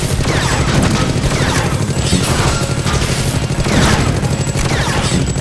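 A super minion in the video game Awesomenauts attacks with a rocket launcher in a loud, continuous barrage of rapid blasts and explosions, dense and close, with no pause.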